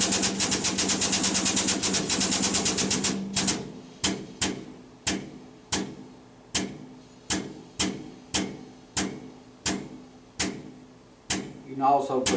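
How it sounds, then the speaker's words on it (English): An air jack pumps up to compress a spring for rating, starting with a rapid steady clatter for about three seconds, then a series of loud, sharp single bursts at roughly one-second intervals, close up. "I'm going to jack it another inch and rate that spring."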